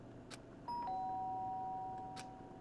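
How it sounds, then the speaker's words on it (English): Doorbell in the Danganronpa game, a clear two-tone electronic chime that rings once and sustains, fairly close and alone over quiet room tone. "The sharp sound of the doorbell pierced my sleepy haze and pulled me back to the real world"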